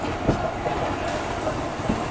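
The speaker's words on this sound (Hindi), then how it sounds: "और ये देख सकते हैं विरार जाने वाली लोकल।" Crowded Mumbai local train bound for Virar rumbling past at close range, with a steady rolling roar and a few faint wheel clacks.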